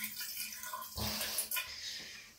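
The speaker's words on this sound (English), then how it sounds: "it's good to just pour it on the side of the drain like that so that it gets the sides" Liquid poured slowly along the side of a shower drain, a soft, faint trickling and splashing that swells briefly in two spots before settling again.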